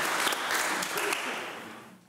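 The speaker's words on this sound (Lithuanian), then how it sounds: "Plojimai, ačiū." Audience applause at a live talk event fills the space with steady, dense clapping, holding strong and then gradually fading toward the end of the short stretch.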